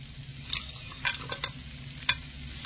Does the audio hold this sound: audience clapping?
no